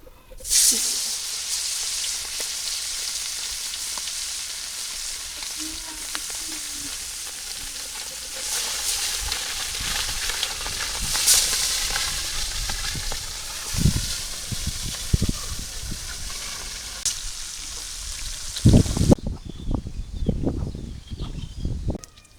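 Fish seasoned with turmeric, chili powder and salt sizzles in a pan with a loud, continuous frying hiss, broken by occasional stirring knocks near the end.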